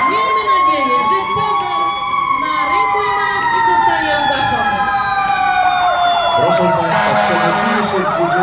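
A volunteer fire brigade's fire engine siren wails loudly and close during a fire on the market square in Limanowa, Poland. The siren sweeps up and down continuously over an engine rumble.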